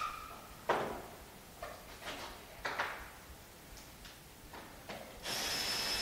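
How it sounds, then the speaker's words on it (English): Screws are backed out of a packing case with a cross screwdriver: faint, close scraping clicks and short squeaks come in irregular bursts, ending with a brief louder rasp. "Please remove the screws around the box by cross screwdrivers."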